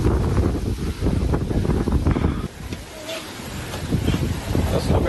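Strong wind buffets the microphone on the Devarayana Durga hilltop near a temple entrance, a loud continuous low roar with gusty surges and a brief lull midway.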